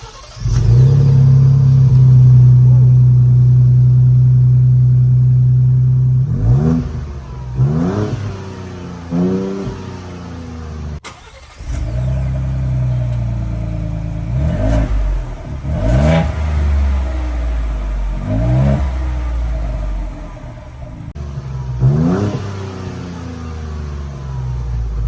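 A Ford Bronco fitted with an AFE Power aftermarket exhaust starts and idles loudly, then is revved repeatedly in short rising blips, each swelling into a deep growl and falling back, recorded close with no talking.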